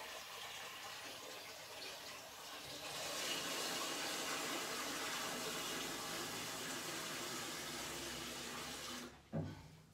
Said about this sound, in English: I just use tap water.